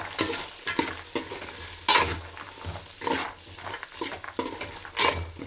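Peas, carrots and beans sauté in hot oil over high flame, a close sizzle broken by repeated sharp scrapes and clanks of a spoon stirring in the pan.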